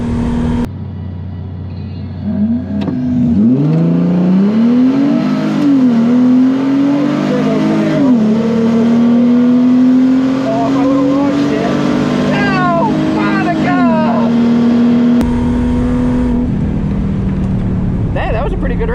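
A Mercedes SLK32 AMG engine roars loud and close during a drag race against a turbo Camaro at a cars and coffee meet, its rising drone dipping briefly at each gear change before tapering off.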